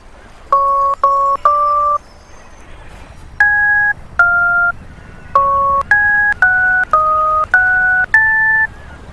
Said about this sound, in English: I'm going to try and match them to the numbers on my keypad